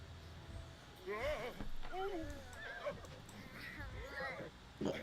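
A horse whinnies in a couple of clear, wavering neighs with hoof clip-clops and voices around it, set on a ranch.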